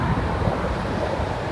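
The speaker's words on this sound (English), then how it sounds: "it's also very windy" Strong wind blows across Grovebury Sand Pit at Leighton Buzzard, a steady, dense roar buffeting the microphone without a break and with no voices.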